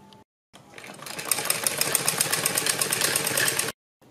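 A sewing machine stitching a strip onto a kurti runs in one continuous close burst of several seconds, a fast mechanical whirring and clatter that starts and stops abruptly.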